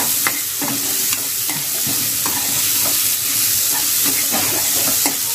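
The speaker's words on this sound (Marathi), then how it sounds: "आता आपल्याला इथे मोठे 2 कांदे जे चिरून घेतलेले ना ते यामध्ये घालायचे आहेत. त्यांना पण आपण चांगलं फ्राय करून घेऊया" Two large chopped onions frying in a pan for a garlic and fenugreek dish, giving a loud continuous sizzle and hiss with frequent scraping stirs, close up and without talk.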